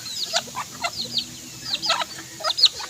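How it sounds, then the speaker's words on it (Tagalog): A pure white native bantam chicken clucks close by in a short run of quick, sharp clucks and squawky calls, with quiet background noise and no talk. "Pure white na bantam. Native bantam."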